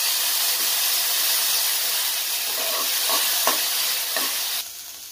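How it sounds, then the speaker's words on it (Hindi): Onions frying in a pan for kanda poha give a steady, fairly loud sizzling hiss with a few soft stirring taps. The sizzle drops away abruptly at the very end. "प्याज को हम अच्छे से फ्राई करेंगे।"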